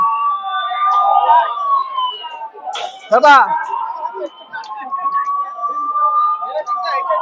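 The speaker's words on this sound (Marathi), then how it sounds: "नगर परिषदच्या अँबुलन्स आपल्या अग्निशमन दलाच्या गाड्या या ठिकाणी आल्या आहेत" A wailing ambulance and fire engine siren rises and falls under steady talk at a scene of rioting and arson, with a brief burst of other noise midway through.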